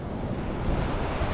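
Ocean waves wash onto a beach in a brief, steady roar of surf, heavily mixed with wind buffeting the microphone.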